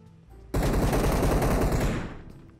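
Rapid automatic gunfire in PUBG, a loud sustained burst starting abruptly after a quiet moment, then tapering off toward the end.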